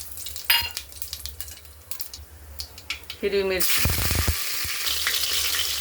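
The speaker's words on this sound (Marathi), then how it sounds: "जिरे छान तडतडले" Cumin seeds crackle and sizzle in hot oil, a bright hiss that swells loud partway through, with a short spoken phrase and a utensil clink before it.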